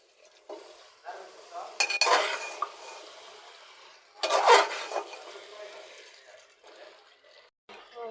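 Duck meat being sautéed in hot oil, with stirring scrapes and pan clatter in two loud bursts around two and four and a half seconds, a steady sizzle running beneath, and voices heard in the background.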